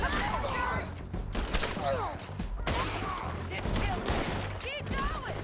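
Bursts of hip-fire gunshots in a shooter video game, sharp and rapid, mixed with game effects and a voice talking over the action.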